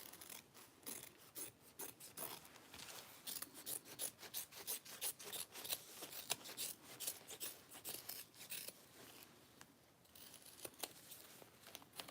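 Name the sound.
trimming excess material while making a bag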